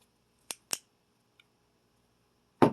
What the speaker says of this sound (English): the antenna on this REM pod does pull out and it does fold down